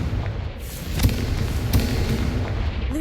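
Confringo explosive spell blasts in Hogwarts Legacy, a couple of heavy booming thumps over a dense rumbling game soundscape, loud and close with no talking.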